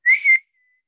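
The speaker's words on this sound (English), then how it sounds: "Can you whistle?" A person whistles a short two-part tone, a clear sustained pitch that dips briefly in the middle before resuming, close and fairly loud, followed by silence; heard during an English lesson for young learners.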